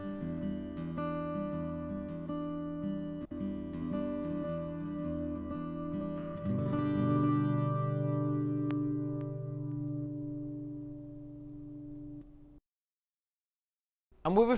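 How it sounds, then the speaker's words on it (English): Acoustic guitar with chorus and delay effects playing sustained chords and ringing notes, with a thicker strummed section midway that fades out into silence before a brief return at the end. "apply some chorus. Followed by delay."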